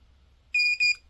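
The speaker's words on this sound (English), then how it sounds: "So I long press this until it beeps," A KAIWEETS KGP01 pinpointer metal detector gives two short, bright electronic beeps in quick succession after a long button press, close and clear against near silence.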